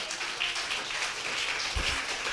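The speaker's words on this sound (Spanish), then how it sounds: "Puedes darle un aplauso al Señor." A church congregation clapping in praise during a worship service, a dense, steady patter of applause heard at a distance with no voices over it.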